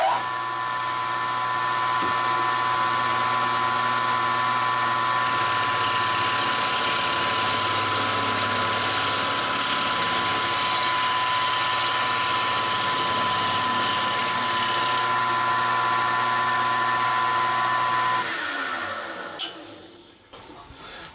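A milling machine shaves metal from a motorcycle push rod with an end mill, a steady loud whine and hum with a faint rhythmic chatter, running continuously before winding down near the end.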